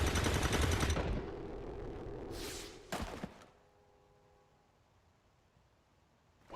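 Automatic reaction gunfire in the turn-based strategy game XCOM 2: a loud, dense burst of shots for about a second, followed by a couple of sharp cracks and a fading tail with faint lingering tones.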